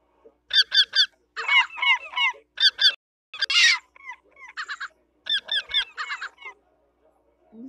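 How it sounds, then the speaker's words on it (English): A baby seagull in the Ultimate Bird Simulator video game calls in repeated short, harsh honking bursts, clear and close, in irregular groups separated by brief silences. "This is our baby seagull."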